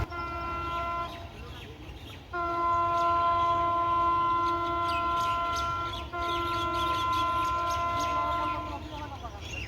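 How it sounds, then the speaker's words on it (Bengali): The 752 Down Lalmoni Express passes through Muladuli railway station at speed on line 2, bound for Dhaka, with a loud, sustained multi-tone horn over the rumble of the train and a brief break in the blast partway through. "752 ডাউন লালমনি এক্সপ্রেস মুহূর্তেই মুলাডুলি রেল স্টেশনের 2 নম্বর লাইন দিয়ে থ্রু পাস করে চলে যাচ্ছে ঢাকা অভিমুখে"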